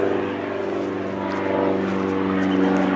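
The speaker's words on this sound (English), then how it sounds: "There's another plane." A propeller airplane passes overhead as a steady, broad engine drone with a low hum that holds at a moderate level throughout, with no speech.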